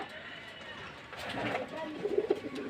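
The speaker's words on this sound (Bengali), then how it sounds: "এই যে নটটা ডাকাডাকি করতেছে" A male pigeon coos near a female in a loft, soft repeated throaty calls rising in the second half, mixed with low background sounds and faint voice.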